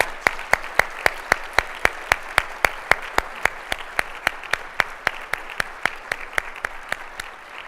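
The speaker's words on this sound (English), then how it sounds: "But let's give you both a round of applause." Clapping from an audience at a philanthropy prize event: sharp, evenly spaced claps in a steady brisk rhythm, close and clear over a quiet background, with no voices.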